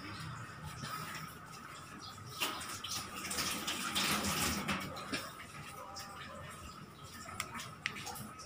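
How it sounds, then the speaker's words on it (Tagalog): Hands being washed under a running tap, a steady broadband splash and patter of water that swells in the middle and continues throughout, with faint voices in the background. "maghuhugas ng kamay."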